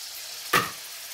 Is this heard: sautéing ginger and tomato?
yes